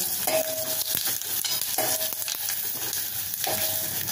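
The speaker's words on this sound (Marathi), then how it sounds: "खोबऱ्याचे काप घालते आणि ते छान परतून घ्यायचे आपल्याला" Coconut slices fry in a pan with a continuous close sizzle, while a spatula scrapes and stirs them in three regular strokes that each ring with a faint metallic tone.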